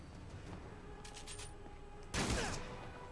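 Enemies open fire in the Spider-Man PS4 video game, a sudden burst of gunfire that cuts in late, loud against a steady game ambience.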